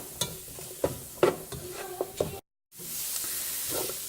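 Onion and a clove of garlic cooking in a pan: a soft sizzle with several sharp stirring knocks and scrapes, cut by a brief silent gap, then a steadier hiss resumes.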